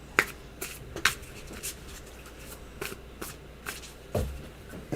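Soft riffling and tapping of shuffled tarot cards, a series of quick crisp flicks spaced irregularly, quiet and close with no talking.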